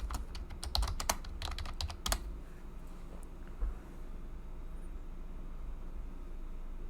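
Code is typed on a computer keyboard in quick, close clattering bursts of keystrokes for the first few seconds, then the keys fall quiet against a faint room hum.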